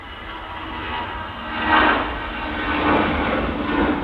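An airliner departs Manchester Airport on a short hop to Belfast, a moderately distant engine roar that swells and fades in gentle waves over a few seconds.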